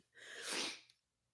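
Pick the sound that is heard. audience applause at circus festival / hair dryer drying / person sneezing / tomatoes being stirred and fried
person sneezing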